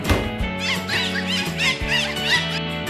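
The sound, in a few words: dolphin squeaking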